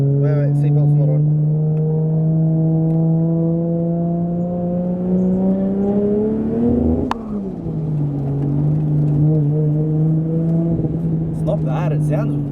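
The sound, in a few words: Turbocharged 2JZ Nissan S15 Silvia revving, loud 4-inch straight exhaust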